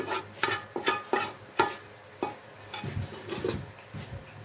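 Minced chicken keema for resha kabab is worked by hand, giving a rhythmic series of soft squelching, slapping strokes close up, fast at first and then looser and grainier.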